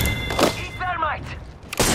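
A thermite grenade goes off in the Apex Legends battle-royale shooter, with broadband thuds and a sizzling burst near the start and another loud burst at the end, while a voice talks in between.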